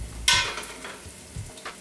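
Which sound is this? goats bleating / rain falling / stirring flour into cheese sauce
stirring flour into cheese sauce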